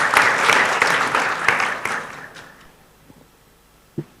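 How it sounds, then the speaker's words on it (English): Conference audience at an international quality tourism event applauding a keynote speaker, a dense burst of clapping that tapers off over a couple of seconds into quiet with a faint thump near the end. "please give a round of applause for Bapak Sandiaga Uno"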